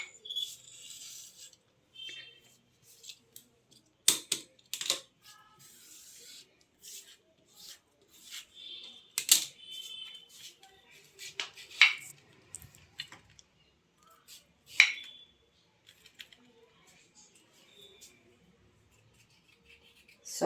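Two cucumbers are chopped on a board, giving sparse, irregular knife taps and scrapes, close and fairly quiet, with long gaps between cuts.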